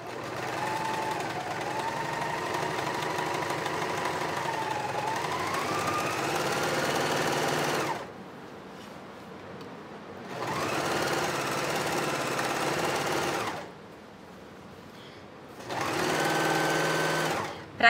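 An overlock sewing machine finishes and trims a fabric edge on a patchwork curtain, running in three loud, steady whirring stretches close by, separated by short quiet pauses.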